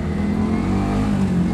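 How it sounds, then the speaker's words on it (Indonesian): Yamaha R15 V3 motorcycle engine fitted with a BPro Racing radiator, running steadily and close by with a deep, constant rumble and a hint of revving, no talk. "Gimana nih sih suara mesinnya"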